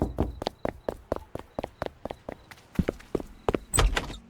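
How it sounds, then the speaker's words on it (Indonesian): Knocking on a door in a video game, a long run of sharp, evenly spaced raps at close range, quickening into clustered bursts toward the end, heard alone without talk. "Kita ketok lagi."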